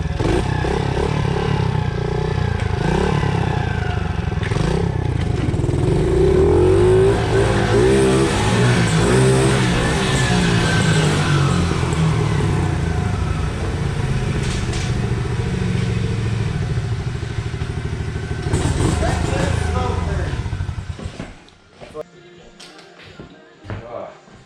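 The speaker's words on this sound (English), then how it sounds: "I heard the 2-stroke." A Honda two-stroke motorcycle engine revs loudly and close by, its buzzing pitch climbing and falling through repeated throttle blips before it cuts out abruptly near the end.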